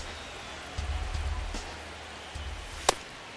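Steady rain ambience in the MLB The Show baseball video game, a soft continuous hiss with a few low rumbling bumps and one sharp crack near the end, with no one talking.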